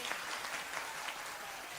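An audience at a religious gathering gives a short burst of dense, even clapping, heard as a steady wash of applause.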